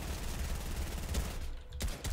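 Dense rapid gunfire in the Fortnite video game, a continuous rattling volley that fills most of the moment, briefly thinning before a couple of final sharp shots.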